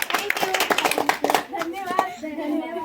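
Schoolchildren at a school midday-meal activity break into a quick burst of clapping that lasts about a second and a half, then fades as people start talking.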